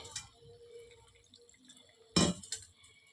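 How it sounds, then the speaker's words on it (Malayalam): A pot of sardine curry soured with Malabar tamarind simmers on the stove, giving soft scattered bubbling blips and one louder wet burst of boiling, heard close and brief with no voices. "നല്ലപോലെ തിളക്കുന്നുണ്ട്."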